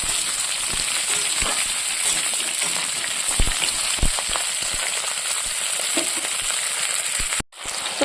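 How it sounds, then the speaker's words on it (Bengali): Steady loud sizzling of potatoes and cauliflower frying in a pan, with occasional stirring clicks and a brief dip near the end. "সবজিগুলোকে হালকা আমি ভেজে নিয়ে তারপরে আমি এখানে মশলা দিয়ে দেবো"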